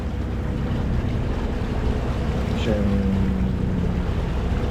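Small north swell off Campomoro, Corsica, surges around a sailboat at sea, a steady broadband wash of water and wind noise, with a brief spoken word and a faint tonal whine partway through.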